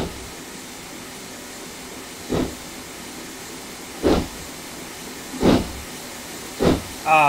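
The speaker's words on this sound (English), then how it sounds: "The revolutionary sounds of a Black 5 and train sim." A Black 5 steam locomotive in the Train Simulator video game gives off steady soft exhaust beats, four or five spaced chuffs over a constant low hiss, moderately close.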